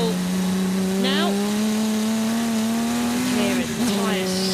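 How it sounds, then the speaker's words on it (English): A historic race car at Goodwood howls past with a sustained, loud engine note that shifts pitch through gear changes, joined by scrabbling tyre noise as it fights for grip, without talk over it. "You can hear it, the tyres scrabbling"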